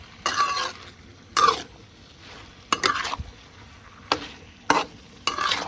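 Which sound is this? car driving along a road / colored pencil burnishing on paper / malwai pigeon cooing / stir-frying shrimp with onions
stir-frying shrimp with onions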